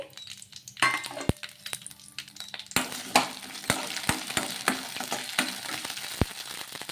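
Green chillies fry in a little oil in a pan. A soft sizzle grows into a lively crackle, and sharp spatula taps and clacks against the pan land at an irregular rhythm close by.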